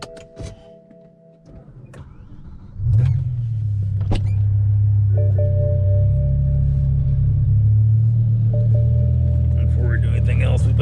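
Rough-running S85 V10 of a BMW E60 M5 with a suspected coil-pack or throttle-sensor fault starts after some quiet handling noise and settles into a loud, steady, uneven low rumble that continues to the end.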